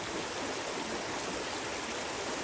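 Continuous rushing of water flowing in a stream, a steady broadband wash with no pauses and no voices.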